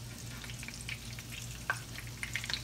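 Old-school fish cakes fry in a pan, producing a soft, even sizzle with scattered small pops and crackles throughout.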